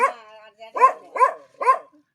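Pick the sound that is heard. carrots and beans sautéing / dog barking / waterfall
dog barking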